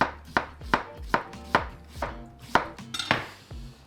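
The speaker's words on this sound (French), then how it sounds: "notre chou et on va couper assez fin pour avoir un coleslaw assez fin" A knife chopping cabbage finely for coleslaw on a board, a steady run of crisp, evenly spaced chops, close and clear, with no talking.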